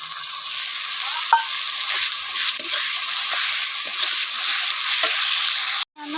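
Ginger-garlic paste sizzles steadily in hot oil for an Odia crab curry, with a close, continuous frying hiss broken by soft scrapes and knocks of stirring, ending in a brief gap.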